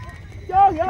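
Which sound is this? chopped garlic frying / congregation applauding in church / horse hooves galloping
horse hooves galloping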